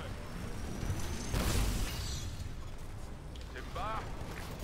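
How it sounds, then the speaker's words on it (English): Charge rifle firing in the shooter game Titanfall, one deep booming blast with a whooshing energy discharge followed by whirring mechanical tones, under ongoing talk and game noise. "time to try this charge rifle"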